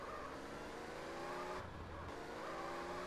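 A car in the video game Multi Theft Auto drifts with a steady engine drone, rising revs and tire noise, loud and continuous, with a brief dip in the upper hiss partway through.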